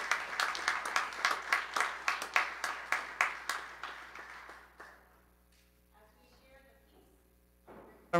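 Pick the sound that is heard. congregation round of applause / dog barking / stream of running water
congregation round of applause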